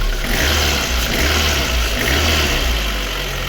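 A Lada Kalina engine running steadily after a valve clearance adjustment, a loud, close, continuous low rumble with an even idle and no pauses.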